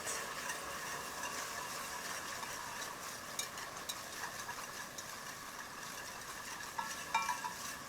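Onions and garlic for steak and potato soup sizzling quietly in a pot, a faint continuous hiss with a few small clicks and taps of a utensil, no talking.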